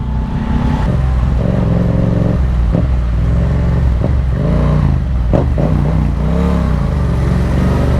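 Steady, loud motor traffic on an expressway heard from a Yamaha XSR700 motorcycle, a continuous engine drone with rising and falling revs and passing vehicles throughout, no talking.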